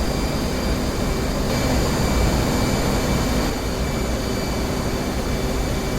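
A fighter jet in DCS lands on an aircraft carrier and catches the arrestor wire, heard as a steady loud roar of jet engine whine and rumble with high tonal whistles, holding level with a slight swell midway.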